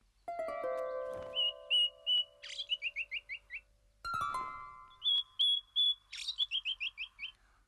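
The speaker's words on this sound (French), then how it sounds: "Les moqueurs copient les sons qu'ils entendent." A mockingbird runs through borrowed songs of other birds: long pure whistles, then bursts of quick repeated chirps and trills, in two similar phrases separated by a short pause, close and clear against silence.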